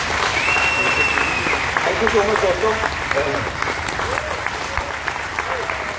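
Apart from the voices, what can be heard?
audience applause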